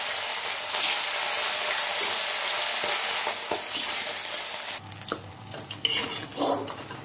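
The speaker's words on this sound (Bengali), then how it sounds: "এবার এগুলো একটু ভেজে নেব।" Fish rubbed with salt and turmeric fries in hot oil in a wok, a loud steady hiss that drops off partway through, followed by scattered clinks and stirring scrapes up close.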